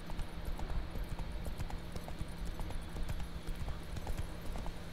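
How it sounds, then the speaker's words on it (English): Hooves of the horse Roach clip-clopping at a gallop in The Witcher 3 video game, a quick continuous patter of hoofbeats at moderate level over a steady background hum. "My horse should be just right here."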